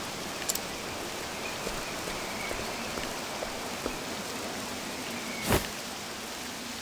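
Steady, soft rain in the video game Octopath Traveler II hisses throughout, with a few faint drips and one brief sharper splash near the end.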